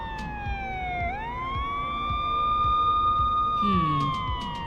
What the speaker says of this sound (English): you hear a roaring engine, and soon after you see blue and red lights flashing on the street